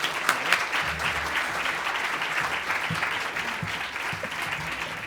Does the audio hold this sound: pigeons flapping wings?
no